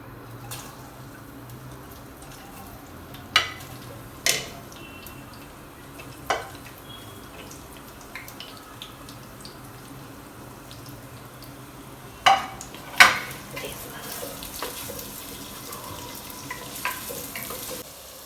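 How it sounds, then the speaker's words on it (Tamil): Onions fry in oil for chicken biryani, a faint, steady sizzle running underneath, broken by a handful of sharp clinks and knocks from utensils against the pan. "ஆனியன் நல்லா வதங்கட்டும். நல்லா கோல்டன் ப்ரௌன் ஆகுனா பிரியாணி நம்மளுக்கு டேஸ்ட்டாக வரும்."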